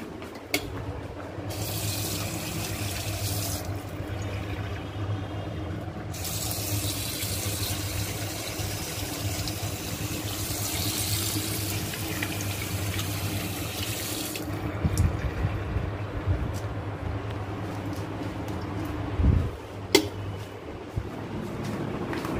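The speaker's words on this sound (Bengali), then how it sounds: "হাতটা আমি একটু ধুয়ে নিয়ে আগে।" Hands are washed under a running household tap, a steady close hiss of water that continues for over twenty seconds, with small splashes and a few knocks near the end.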